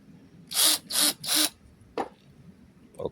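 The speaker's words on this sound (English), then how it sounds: "Let's put the drill on the drilling setting." An electric drill gives three quick whirring bursts in a row, close and loud, followed by a couple of faint clicks and handling sounds, with no talking.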